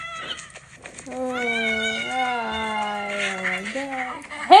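A cat in a La Llorona horror movie lets out a long, wavering meow that rises and falls over about three seconds, then a short second cry, heard fairly clearly over a quiet background.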